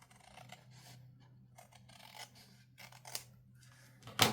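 Scissors snipping and rasping through a paper edge while a fabric window pocket is made, a series of soft close cuts ending in a louder crisp snip.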